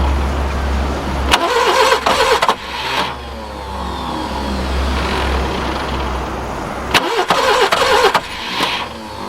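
The starter motor on a Subaru Brumby ute cranks the engine in two separate whirring bursts with a pause between, loud and close, over a low rumbling background.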